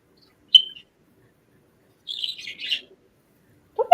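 Backyard birds chirp outdoors after rain: a single sharp high chirp, then a short twittering run of quick notes a couple of seconds later, then another call at the end, all fairly close against quiet.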